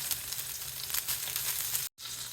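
Steak frying in butter with its juices, giving a loud, steady sizzle close by that cuts out abruptly for a moment near the end and then resumes.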